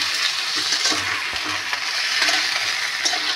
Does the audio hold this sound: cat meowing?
no